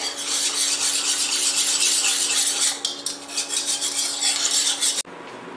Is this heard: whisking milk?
yes